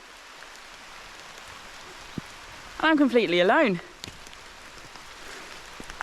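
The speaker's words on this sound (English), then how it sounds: "I can hear the rain" Rain falls steadily through a pine forest as a soft, even hiss, with a single person speaking briefly partway through.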